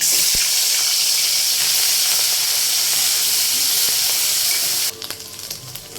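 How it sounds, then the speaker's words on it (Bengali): Onion fries in a pan for a spicy koi fish curry, a loud, dense, close sizzle and hiss that runs steadily, then drops sharply quieter near the end. "আমার পেঁয়াজটা একটু ভাজা হয়ে গেছে"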